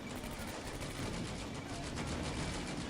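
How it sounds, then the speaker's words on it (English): Artillery fire in the Combat Mission wargame comes as dense, continuous rumbling bursts and crackling blasts. They hold loud and steady from start to finish. "Artillery now coming down"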